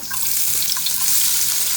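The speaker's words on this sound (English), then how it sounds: "we just love that oil popping, sizzling" Onions sizzle loudly in hot oil, a steady bright hiss with small crackles and pops, close up and alone.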